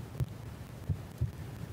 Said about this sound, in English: there's a heartbeat again